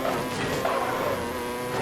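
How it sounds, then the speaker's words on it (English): A broken-sounding engine in a video game gives a thin, steady, mosquito-like buzz, dense and continuous at close range with no pauses and no talk. "Oh, the engine sounds broken."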